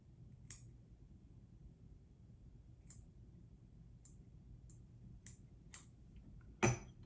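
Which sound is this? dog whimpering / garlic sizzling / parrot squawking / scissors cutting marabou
scissors cutting marabou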